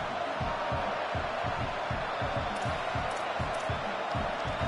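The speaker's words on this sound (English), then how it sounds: "This crowd trying to do its part to get inside the kicker's head." A stadium crowd in a college football video game roars steadily during a field goal attempt, with a rhythmic thumping chant pulsing under the continuous cheering.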